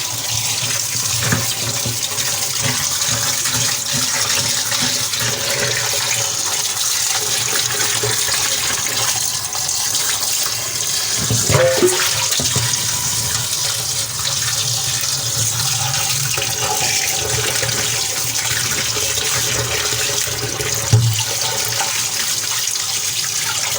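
Fish roe is rinsed under a steadily running tap in a village kitchen, a loud, continuous splash of flowing water with occasional heavier sloshes and clinks as the roe is handled, close up with no talking.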